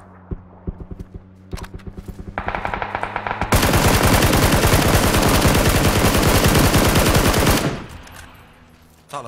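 Gunfire in the video game PUBG: a handful of separate sharp shots gives way to a loud, sustained burst of rapid automatic fire lasting about four seconds before it stops abruptly.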